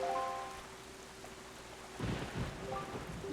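Rain falls steadily on a cursed island in The Legend of Zelda: The Wind Waker HD, and a low rumble of thunder rolls in partway through. Short musical tones sound at the start and end.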